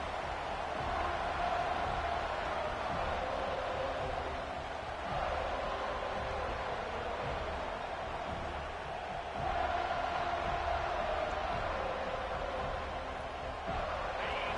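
A large football stadium crowd at a Penn versus FSU game roars in a steady, distant wash of noise that swells briefly midway, heard at a moderate level throughout.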